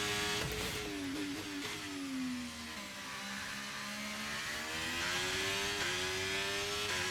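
Racing car engine from an F1 video game, driving in the Saudi Arabian round: a steady, loud, high-pitched whine that dips in pitch mid-clip and then climbs again, continuous and close throughout, with no talk.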